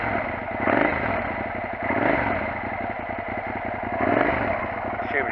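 Motorcycle fitted with a Delkevic racing exhaust with the baffle removed, idling close and loud with a steady, throbby burble and slight rises in revs.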